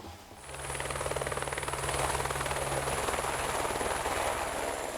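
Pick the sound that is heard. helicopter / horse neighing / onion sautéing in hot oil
helicopter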